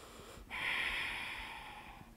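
Deep, steady breath from a yoga practitioner holding a pose, a single long airy exhalation that swells near the mic then slowly fades, with no talking.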